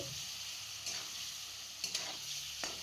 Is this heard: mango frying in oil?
yes